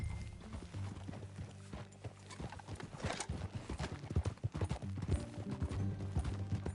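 Horses trot along in Red Dead Redemption 2, their hooves clip-clopping in a quick, uneven rhythm over a low musical backdrop, with a brief whinny.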